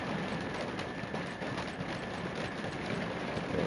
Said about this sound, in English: We're getting some rain here